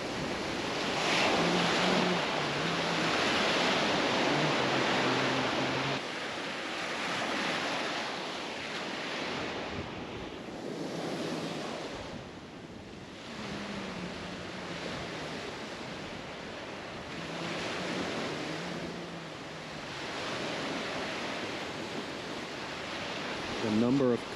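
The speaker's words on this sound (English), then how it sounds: "There she is, Lake Michigan." Waves wash steadily onto the Lake Michigan shore at Indiana Dunes in a broad, continuous roar mixed with wind buffeting the microphone, and someone speaks faintly at times over the surf.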